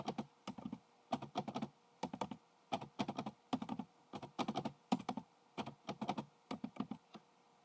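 Typing on a computer keyboard, close and quiet, in quick clustered bursts of key clicks with brief pauses between them.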